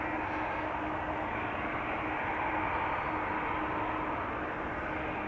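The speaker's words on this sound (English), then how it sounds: "I'm hearing engine sounds. I'm not sure which airplane I'm hearing" An airliner's engines roar at Amsterdam Schiphol Airport, a steady, dense broadband rumble that holds constant throughout at moderate loudness with no voices.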